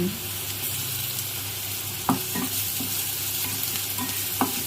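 Ginger garlic paste fries in oil with a steady, close sizzle, broken by a few sharp clicks of a stirring spoon against the pan, with no one speaking.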